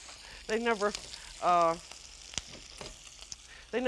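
Unfloured beef chunks browning in a hot pan for a French beef stew in red wine, giving a steady low sizzle throughout, with a person talking over it in short bursts.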